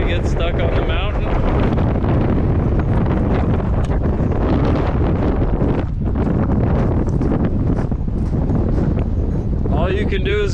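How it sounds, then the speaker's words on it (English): Strong wind on a Montana mountain buffets the microphone in a constant loud roar, with brief gusting surges and faint voices mixed underneath. "I can't believe how windy it is."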